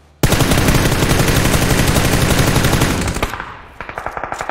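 Sustained automatic gunfire from the battle royale game PUBG on the Erangel map, a loud, dense burst of rapid shots lasting about three seconds, then a trailing run of separate, quieter single shots.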